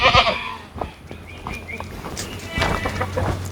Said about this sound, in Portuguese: Essas cabras são da raça Sunny.